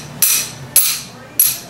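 A hammer strikes metal three times in steady succession, sharp loud close impacts knocking a part off a Polaris Outlaw IRS rear end, with a faint low background between blows.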